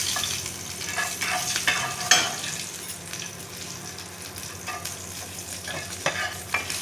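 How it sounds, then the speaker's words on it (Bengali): Chillies frying in hot oil for an egg curry, a steady sizzle with sharp crackles and small pops bursting through at intervals, close and alone with no talk. "লঙ্কা দেবো, লঙ্কাগুলো ফাটিয়ে দেবো আমি।"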